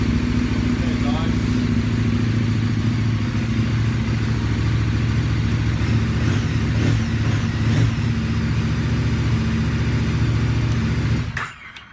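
A KTM 1190 motorcycle engine idles steadily and close by after an inline fuel filter is fitted, a constant mid-pitched throb with light mechanical clatter that runs for about eleven seconds and then stops.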